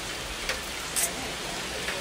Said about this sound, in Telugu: కానీ చూడండి ఫుల్ వర్షం పడుతుంది